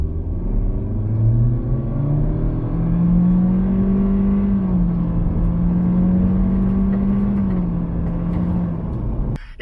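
A 2022 Honda Civic RS with a CVT pulls away from a standstill in Econ mode, its engine droning in a smooth rising then steady whir with road rumble, heard continuously from inside the cabin.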